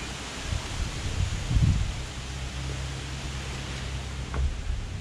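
Steady wind blows outside a chicken coop, a continuous broadband rush with low gusty rumble against the microphone and a couple of brief swells, heard alone with no talking.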